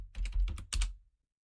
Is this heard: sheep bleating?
no